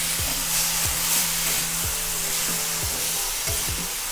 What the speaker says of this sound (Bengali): আমরা লাল শাক দিয়ে 1 মিনিট মতো নাড়াচাড়া করে নিয়েছি